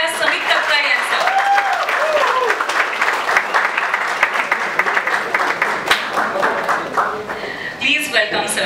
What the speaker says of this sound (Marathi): जोरदार टाळ्या वाजवून आपण स्वागत करूया समित कक्कड यांचं.